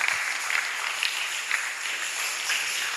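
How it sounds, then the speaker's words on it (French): A congregation at a Sunday church service applauds, a soft, fairly distant patter of many hands with a loose rhythmic pulse running steadily for a few seconds. "On acclame."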